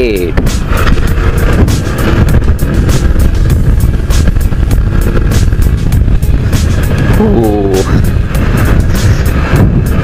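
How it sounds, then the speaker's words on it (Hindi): A 2020 TVS Apache RTR 160 BS6 motorcycle, drum brake model, roars loudly as it is ridden and accelerated, with engine revs rising and dropping through gear changes amid wind buffeting, close and continuous. "Zabardast pickup hai bike ka."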